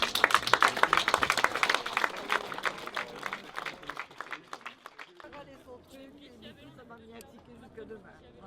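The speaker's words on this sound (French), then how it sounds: "On peut encore les applaudir." Audience applause breaks out for performers, a dense burst of clapping that is loudest at first, then thins and fades under crowd chatter and a speaking voice.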